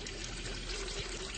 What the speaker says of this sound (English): Now I'm going to pour the sugar water into this jar.